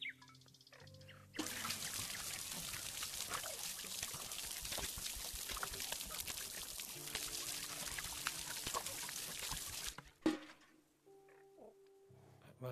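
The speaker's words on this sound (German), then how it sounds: "Ich muss eh noch die Blumen gießen." Water pours steadily over flowers in the VR game Garden of the Sea, a dense continuous splashing stream lasting several seconds, framed by soft game chimes and tones before and after.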